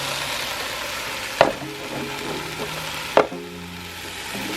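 Garlic, onion and tomato fry in hot oil for Mexican-style nopales with dried shrimp, giving a steady broadband sizzle with two sharp clacks of a utensil against the pan.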